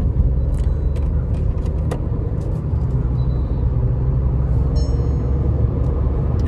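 A Volkswagen Virtus car drives and accelerates at night, a loud steady engine and road rumble heard from inside the cabin, with faint ticks and clicks over it and no speech.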